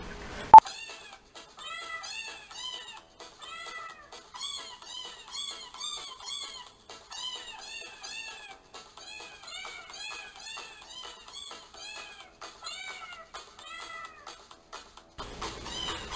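A novelty record plays cat meows arranged into a rhythmic, tune-like sequence, with many short meows repeating in a steady pattern for several seconds after a sharp click at the start.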